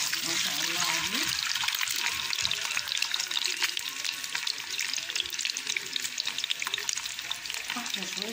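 Eggs fry in hot oil in a pan for Alexandrian koshari with a loud, dense, crackling sizzle that runs without a break, while a voice talks quietly underneath.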